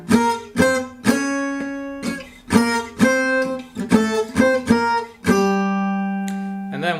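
Jazz bridge section played with a pickup on a plucked, guitar-like instrument, a series of clean struck chords and notes in a loose rhythm, closing on a long ringing sustained chord, with no voices over it.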